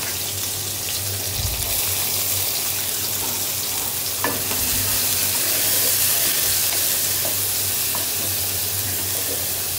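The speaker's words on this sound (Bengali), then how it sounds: "আমি তারপর অল্প একটু তেল অ্যাড করলাম। এখন পেঁয়াজ দিয়ে দিব।" Onions fry in a little oil for a beef and potato dish, giving a steady close sizzle that runs throughout, with a couple of brief clinks and a low running-water hiss underneath.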